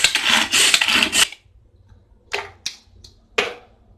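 Spinach leaves are chopped on a board for a spinach egg stir fry. A burst of rapid knife chopping runs for over a second, followed by three separate sharp cuts, each clear and close with quiet gaps between.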